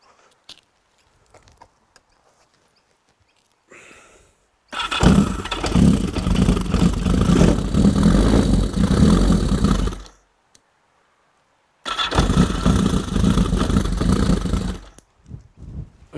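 A Yamaha XS1100 motorcycle engine, freshly rebuilt starter, fires up close and loud in two bursts: about five seconds of steady running, a pause, then a shorter second run. Nobody talks.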